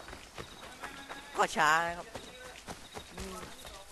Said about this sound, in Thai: มาถึงจะมีม้านะครับ